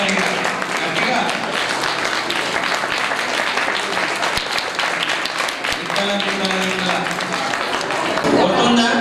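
Children clapping loudly at an Arya Samaj children's training camp closing event, a dense and sustained burst of applause that runs throughout, with a voice speaking over it toward the end.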